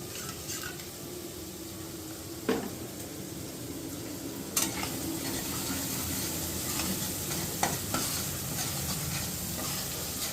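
Food sautés in a pan with a quiet, continuous sizzle, broken by a few sharp clinks and scrapes of a spoon against the pan.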